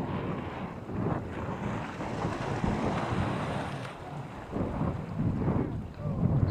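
Steady morning wind buffets the microphone on a fishing boat at sea, with broadband rushing noise and gusts throughout, no clear voices.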